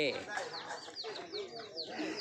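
Chickens and ducks at a rural Thai farm home, cackling and clucking in a busy overlapping chorus of short rising calls, fairly close and steady throughout.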